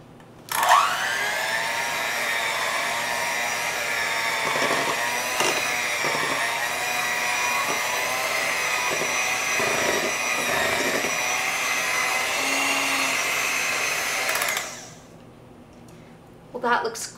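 Electric hand beaters whir steadily through thick vanilla bundt cake batter in a bowl, loud and continuous for about fourteen seconds with occasional knocks against the bowl, then switching off.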